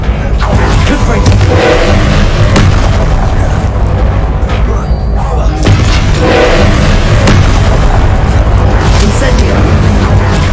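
Confringo fire-blast spell being cast in the video game Hogwarts Legacy, giving dense booming explosions that recur through a loud, continuous battle din with no talk.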